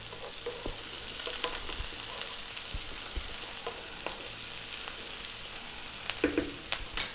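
Oregano, tarragon and a sliced chili sizzling in a hot pan, a continuous even frying hiss with light stirring taps throughout and a small clatter at the end.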